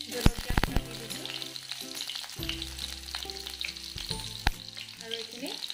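Cumin seeds and green chilies fry in hot oil for poha, a loud burst of spattering crackle at the start settling into a steady close sizzle with occasional pops.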